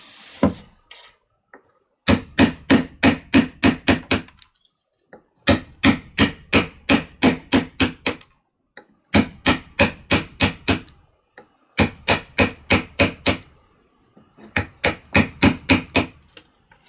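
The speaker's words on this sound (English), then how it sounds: "Loose handle on that one, you can hear that rattling of the metal in the wood." A neglected old chisel with a loose wooden handle rattles, its metal clattering in the wood in close, rapid bursts of about ten quick knocks each, with short pauses between bursts and no talking.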